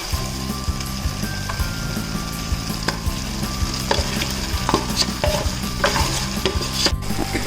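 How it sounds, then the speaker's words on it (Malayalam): Fried fish pieces stirred into masala in a pan for Kerala-style fish pickle: steady sizzling with repeated scraping and clinking of a spoon against the pan, close and continuous. "ഇതിലേക്ക് നമ്മൾ ഫ്രൈ ചെയ്ത് മാറ്റി വെച്ചിരുന്ന ഫിഷ് ഇതിനകത്തേക്ക് ഇടണം."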